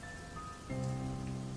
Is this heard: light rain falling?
yes